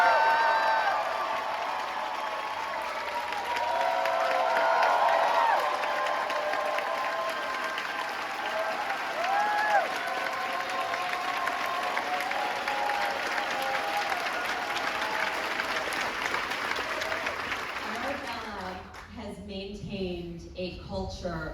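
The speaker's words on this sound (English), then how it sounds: "I would love for her to hear an entire theater applaud her." A packed theater audience at a closing-night curtain call applauds in a long, dense wash of clapping and cheers that holds steady, then thins out near the end as a voice begins to speak.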